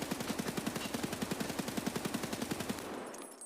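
A weapon test-fired in Escape from Tarkov lets off one rapid, even burst of automatic gunfire of about twenty-five loud, close shots in quick rhythm, then stops abruptly and leaves a short tail.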